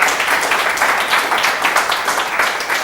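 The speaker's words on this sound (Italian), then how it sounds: "applausi." Dense audience applause for a guest introduced on an Italian music TV broadcast: steady, many-handed clapping that stays full and even throughout without fading.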